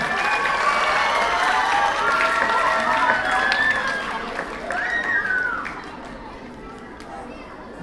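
An audience at a school spelling bee for 3rd and 4th graders gives a round of applause, dense clapping that fades gradually toward the end, with some chatter mixed in.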